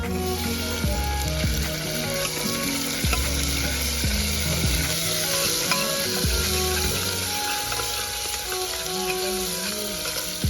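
A garlic, onion, cumin and tomato tadka fries in mustard oil outdoors on a riverbank, a loud continuous sizzle and crackle with scraping stirs, alongside faint music tones in the background.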